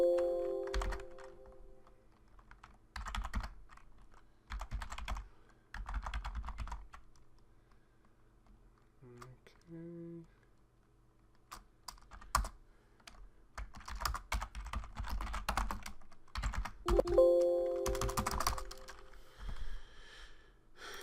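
Keystrokes clatter on a computer keyboard while a router is configured for a zone-based policy firewall, coming in several bursts of rapid typing separated by pauses, with a few heavier thunks, close and alone with no talk.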